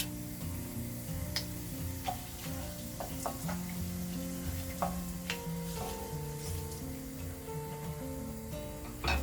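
Cumin seeds, cinnamon bark and cardamom sizzle in ghee while ghee rice with cashew and carrot is being made, giving a soft steady frying hiss broken by scattered pops and light ticks of spices hitting the pan.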